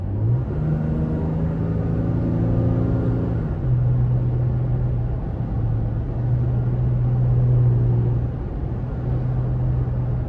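A 2023 Toyota Tacoma Limited V6 Double Cab engine revs in ECT power sport mode, a steady loud low engine drone with rising and falling harmonic pitch through several rev swells, continuous road rumble underneath, no talking.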